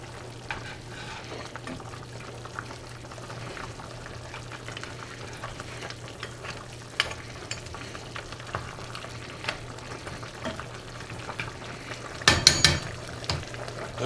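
Deer gravy simmering in a black iron pot, a quiet bubbling and faint sizzle with a low steady hum, occasional soft clinks, and a brief louder burst of stirring near the end.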